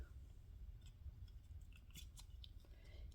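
Scissors snip through a fabric quilt block, cutting it diagonally from point to point into two triangles; soft, close, irregular cuts sit over a low steady hum, with no talking.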